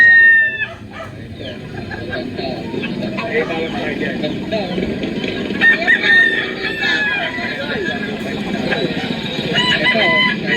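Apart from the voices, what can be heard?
roosters crowing and clucking at a chicken market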